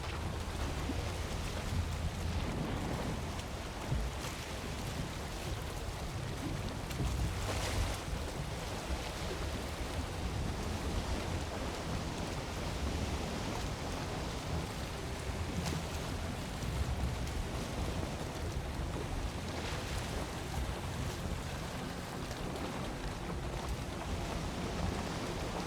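A ship under sail at sea at night in the video game Valheim, with a constant broad wash of wind and waves rolling on without pause, loud and even, and no voices.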